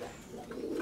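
A house pigeon gives a soft, short coo among other pigeons, faint and close, in a brief burst with no speech.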